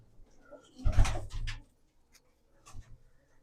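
Pigeons coo nearby in a quiet space, with a louder burst of throaty calls early on, followed by silence and then a fainter, shorter coo near the end.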